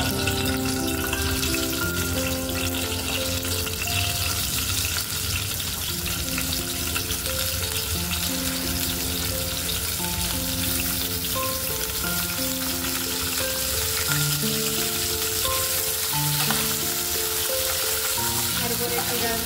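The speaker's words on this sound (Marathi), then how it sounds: "कढई तापल्यानंतर थोडंसं तेल टाकायचं आणि आपल्याला पहिले शेवग्याची शेंग भाजून घ्यायची" Drumstick pods frying in hot oil in a wok, a steady dense sizzle that runs unbroken at close range with no talking over it.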